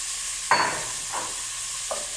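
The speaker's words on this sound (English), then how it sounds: "And then I'm going to throw in the rest of this beef." Beef sizzling in a Dutch oven as it is stirred, a steady hiss with three scraping stirs spaced through the stretch and no talk.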